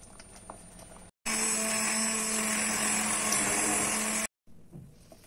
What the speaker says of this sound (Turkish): Şöyle blenderdan çekelim.